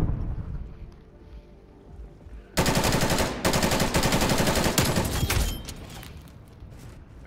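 Call of Duty Black Ops Cold War gunfire: after a quiet stretch of low rumble, a loud sustained automatic burst erupts, stutters briefly, then continues before trailing off into ambient wind-like noise.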